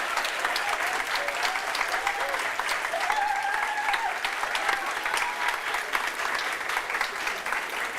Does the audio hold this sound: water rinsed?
no